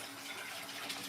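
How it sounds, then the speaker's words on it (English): Hot tap water runs steadily into a non-stick soup pot being rinsed in a kitchen, a soft continuous gush heard on its own. "rinse this off again with hot water."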